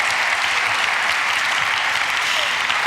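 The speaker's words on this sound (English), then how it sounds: "a round of applause for him." Audience applause at a software conference talk, a steady dense clapping from a large room sustained throughout, with no talk over it.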